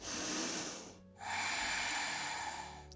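Deep nasal inhale during a yoga breathing exercise, a close, breathy rush of air that pauses briefly and then resumes as a long steady intake, with no talking.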